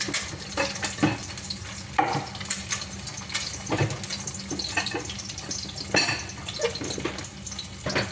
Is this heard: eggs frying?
yes